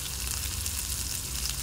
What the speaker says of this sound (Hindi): हमें कीमे को पहले ही अच्छी तरीके से फ्राई कर लेना है